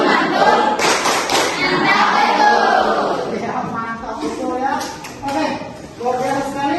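A classroom group performs a 'tepuk mantul' rhythmic clapping ice-breaker, bursts of patterned hand claps with voices chanting along, fairly close and lively throughout.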